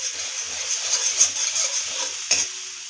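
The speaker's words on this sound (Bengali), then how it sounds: "তো এবার নারকেলটা দিয়ে আরেকটু কষিয়ে নিলাম।" Prawn masala with coconut sizzling and being stirred in olive oil in a pan, a continuous close hiss with light scraping strokes and one sharper clatter near the end, no voices.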